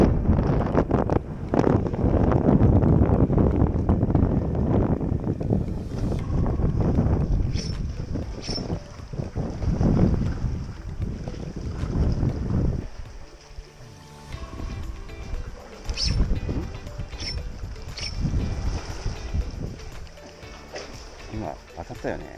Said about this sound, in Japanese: 風が強すぎる。